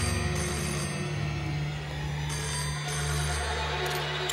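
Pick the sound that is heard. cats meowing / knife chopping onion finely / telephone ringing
telephone ringing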